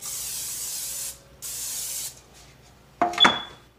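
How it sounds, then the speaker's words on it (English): Two short hissing bursts of cooking spray onto a pan close up, followed by a brief clatter of a can or pan being set down. "We are going to lightly spray our pan."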